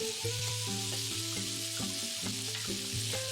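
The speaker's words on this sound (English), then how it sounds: "Add in your sausage and let it sizzle." Sausage sizzles steadily in a hot skillet, browning, a constant crackling hiss with faint pops and light stirring, close and uninterrupted.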